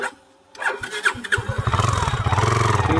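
A motorcycle engine cranks and catches after a short quiet moment, sputtering into a steady, close putter that grows louder and more even as it settles into an idle.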